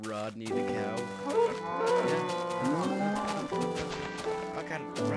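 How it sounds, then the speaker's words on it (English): A cow in a video game moos repeatedly in long, drawn-out bellowing calls that carry loudly through most of the stretch, with no talk over them. "What's up, Rodney the cow?"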